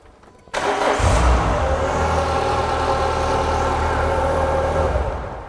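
A Renault Clio 182 cranks and fires after brief quiet, catching abruptly and settling into a steady, close, loud idle with a low throbbing hum that fades slightly at the end.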